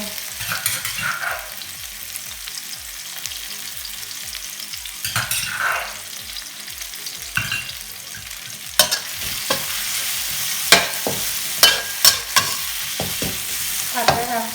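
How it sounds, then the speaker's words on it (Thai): Chili and garlic hit hot oil in a pan for shrimp stir-fry with holy basil, a loud crackling sizzle with rhythmic stirring scrapes and repeated sharp utensil clanks, no voices. "อันนี้ก็คือพริกกระเทียมนะคะใส่ลงไป"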